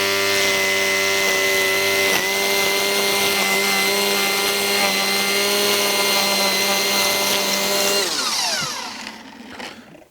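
A Milwaukee M18 Fuel string trimmer running with 0.95 black diamond trimmer line: a loud, steady high-pitched motor whine that holds for about eight seconds, then winds down and fades out.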